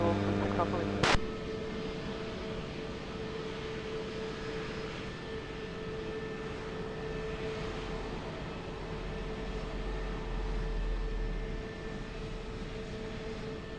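A plane takes off from runway 20 at Lisbon Airport, heard as a steady, broad engine roar with low rumble that holds for the whole stretch, somewhat distant and unbroken.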